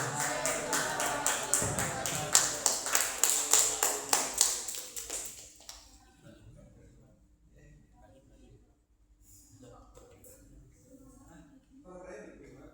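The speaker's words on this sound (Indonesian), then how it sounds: "tepuk tangan sekali lagi buat Mas Baim." Seminar audience claps in a short burst of rhythmic, evenly spaced handclaps that stop after about five seconds, leaving quiet room noise and faint talk.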